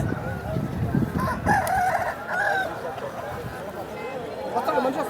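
At a rooster market, a rooster crows with a long, wavering call amid other clucking fowl, while a person talks nearby over the barnyard noise.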